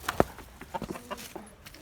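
A red hen in a backyard coop gives a few short, close clucks spread over about two seconds, with some faint handling noise around them.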